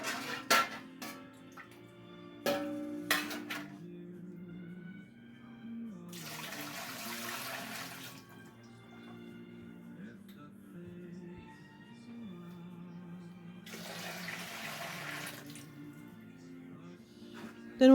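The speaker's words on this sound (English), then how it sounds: "My canner calls for 3 quarts of water for pressure canning." Water is poured into a pressure canner for canning bone broth in two separate splashing bursts, separated by quiet stretches over soft background music.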